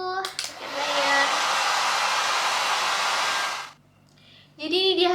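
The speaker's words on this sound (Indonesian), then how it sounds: "kita keringin dulu hair dryer" A hair dryer blows steadily on freshly dyed hair for about three and a half seconds, a loud close whooshing roar that cuts off abruptly, with brief voices after it stops.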